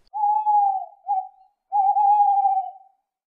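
An owl gives three clear, close hoots, two long, steady tones broken by a short one, with silence between calls and no voices.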